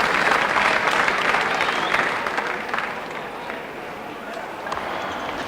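A 50,000-strong Melbourne cricket crowd at the MCG applauds a left-handed batsman, sustained clapping and cheering that is strongest at first, dips slightly, then carries on steadily in the background of the ground.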